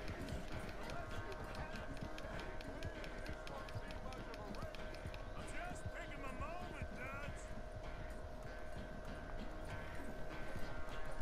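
A horse gallops in Red Dead Redemption 2, its hooves pounding in a rapid, steady rhythm through the whole stretch, with voices talking over it.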